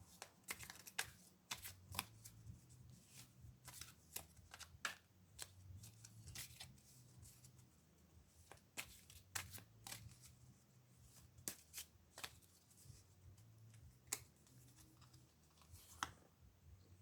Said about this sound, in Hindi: आज मैं सारे कार्ड एक साथ शफ़ल करूँगी